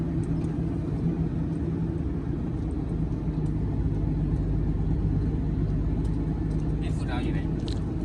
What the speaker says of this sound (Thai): ขับรถหนักครั้งแรกเลยนะครับ